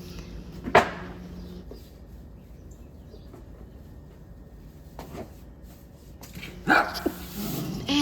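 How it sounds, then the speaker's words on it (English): A small dog barks sharply a couple of times, with a single yap early and a short burst later, amid quiet outdoor background. "Every time I sweep near the door, you'll hear her barking."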